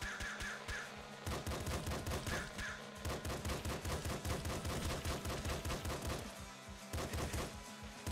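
Rapid gunfire in the video game Nuclear Throne crackles in dense, repeated bursts of sharp shots, pausing briefly near the start and end, loud and continuous through most of the stretch.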